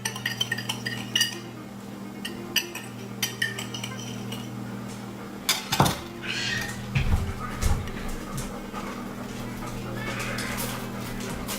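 A utensil scrapes and clinks against a bowl while a dry rub for pork ribs is mixed, giving irregular taps and stirring scrapes over a low steady hum, with a few louder knocks midway.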